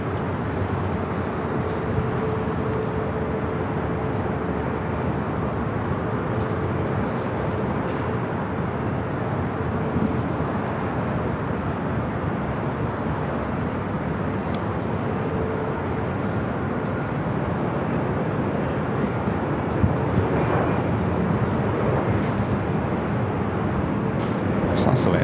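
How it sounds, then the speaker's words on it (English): A Southwest Airlines Boeing 737 MAX 8 bound for Dallas Love Field rumbles at LAX, a steady, broad jet roar holding fairly level for the whole stretch with distant airport traffic beneath it. "Southwest flight heading to Dallas Love Field. Southwest Airlines Flight 4304. It's a 737 MAX 8."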